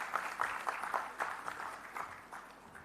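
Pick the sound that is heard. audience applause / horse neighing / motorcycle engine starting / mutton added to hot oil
audience applause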